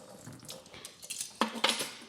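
Water poured into the top chamber of a Berkey water filter, a few splashing, clattering pours with hollow container knocks, close and moderately loud, with no talking.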